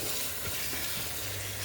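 Tomato paste left to cook in a pan for bolognese sauce gives a steady, close, hissing sizzle throughout with no breaks.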